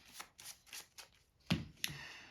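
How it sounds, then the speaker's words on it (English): Playing cards riffled and shuffled in small piles of same-coloured cards at a table, a series of quick soft riffles followed by two sharper snaps near the close. "you can shuffle each pile individually, because you're just mixing up cards of the same color"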